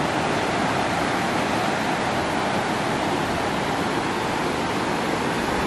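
Beach waves at Long Beach, San Vicente, Palawan: a loud, steady, broadband wash of surf that carries on without a break and has no distinct individual wave crashes.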